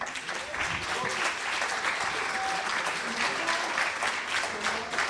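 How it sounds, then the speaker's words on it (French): Audience applause at a French tech event, steady sustained clapping from a crowd throughout, fairly even in loudness, with no voices over it. "Donc, je voudrais qu'on applaudisse une figure de la tech française, Alain Bénichou."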